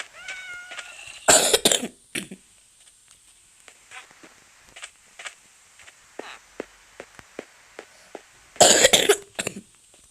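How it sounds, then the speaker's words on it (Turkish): Two loud, harsh coughs from a sick person, several seconds apart, close by, with faint clicks and light rustling in between; a cat meows briefly at the start. "Öksürüyorum o yüzden."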